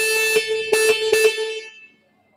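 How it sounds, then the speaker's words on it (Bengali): A 400 XC scrambler motorcycle's electric horn sounds three close, loud beeps over a steady tone that trails off after about a second and a half, leaving silence. "হর্নটা একটু শুনিয়ে দিচ্ছি"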